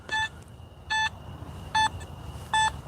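Electronic metal detector tones during a nighttime coin hunt: four short, loud, pure beeps spaced roughly evenly apart over low background noise, with no talking.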